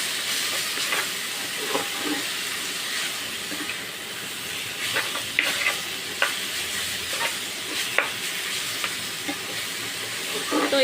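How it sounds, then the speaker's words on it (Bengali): Kalmi greens frying in a pan in a village kitchen, with a steady sizzle and repeated scraping stirs at irregular intervals, close and moderately loud. "তো এই যে শাকটা দেওয়া হয়ে গেছে, এখন এটাকে আমি ভালোভাবে নাড়িয়ে চাড়িয়ে নিচ্ছি"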